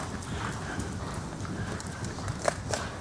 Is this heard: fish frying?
no